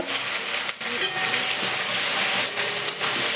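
Spice paste with turmeric, chilli powder and mustard paste sizzles and hisses steadily in a hot pan as it is stirred, close and fairly loud, with a few brief scraping pauses and no talk.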